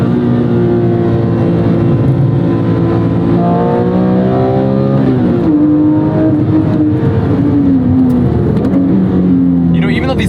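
Porsche 911 GT3 997.1 engine climbing a winding uphill road, loud and close from inside, with rising and falling revs through gear changes and a steady, sporty drone throughout.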